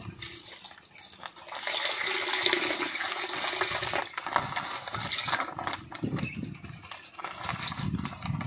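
Water runs and splashes steadily into a melon fertilizer mix, a broad continuous rush that swells and churns throughout, with no voices.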